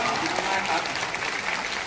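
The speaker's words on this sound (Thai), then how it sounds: "ขอเสียงปรบมือนะครับ" Applause from a concert audience, a dense, steady burst of many hands clapping at moderate loudness, heard alone and briefly.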